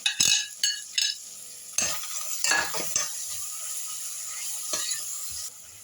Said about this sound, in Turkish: Yağı iyice erittim. Şimdi rendelemiş olduğum havucu içine boşaltıyorum.